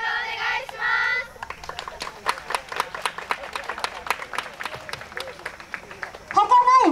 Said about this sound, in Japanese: 皆様手拍子、お手拍子よろしくお願いいたします